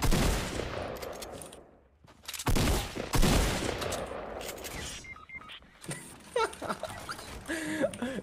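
Gunfire in the video game Fortnite: loud bursts and scattered shots, with sharp blasts near the start and middle, then quieter game effects and tonal sounds toward the end, with no talk.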